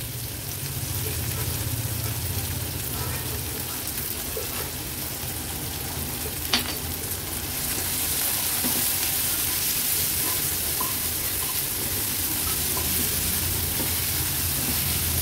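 Chopped tomato pieces salted and sautéed in a pan for a vegetarian thali, giving a continuous soft sizzle with faint stirring scrapes and one brief clink, steady and close.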